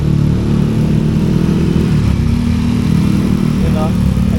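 A Yamaha Aerox 185cc scooter engine with a check-engine warning runs steadily with a low, close drone and slight revving, sustained and loud throughout.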